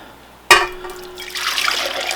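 Liquid poured into a stand mixer bowl while making Swedish limpa rye bread: a sudden splash onset, then a steady, close pouring and trickling that builds slightly over about two seconds, no talk.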